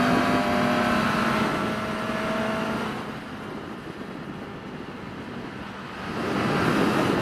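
A 2021 Suzuki Katana motorcycle corners on a road at night, a steady rushing roar of engine and wind that dips slightly midway, then swells again.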